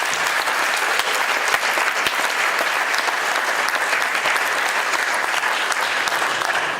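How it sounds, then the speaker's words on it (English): Audience applause for award winners at a luncheon: sustained, dense clapping from a large crowd, steady and loud throughout without a break. "Let's give another round of applause to all of our winners today."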